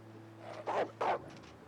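A wolf in the survival game The Long Dark growls twice in short, low, rough bursts over a faint steady background hum.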